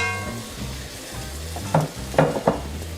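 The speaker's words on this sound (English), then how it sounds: "See, just a light sear." Swiss steak browning lightly in a hot pan, a soft continuous sizzle with a few sharper crackles and pops near the end, close and fairly quiet with no talking.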